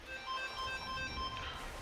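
A phone ringtone chirps in a repeating melodic pattern at moderate volume, heard over the low background of a game played at home.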